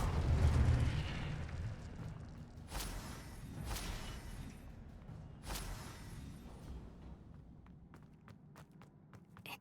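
The Incendio fire spell cast in Hogwarts Legacy: three sharp, fiery whooshing bursts a second or two apart over a low rumble, fading into faint crackles.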